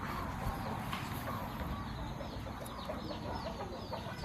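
Faint clucking of chickens in the background, scattered soft calls over a steady low rumble, with no clear voices.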